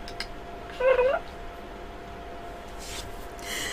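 A domestic cat gives one short meow close by, lasting about a third of a second, followed by quiet room sound with faint soft rustling.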